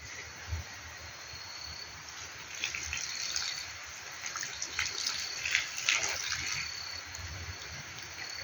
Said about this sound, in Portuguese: a água, digamos, contaminada que vai entrando na jarra